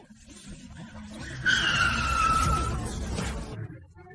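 An expensive car skids to a stop with a loud, sustained tire squeal lasting about a second, over steady engine and road noise that fades afterward. No one speaks.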